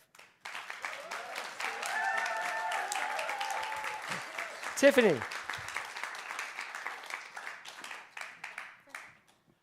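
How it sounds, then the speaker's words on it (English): Applause from a Sunday celebration congregation for the group That's Life, broad and sustained clapping with cheers rising briefly midway, then thinning out, while a voice speaks over it. "Can I ask for a round of applause for That's Life?"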